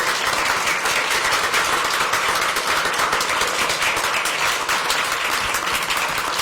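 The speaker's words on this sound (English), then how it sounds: "So if you ask to give them a round of applause." A crowd at a Tupelo city council meeting applauds in a dense, sustained round of clapping that stays loud and even throughout.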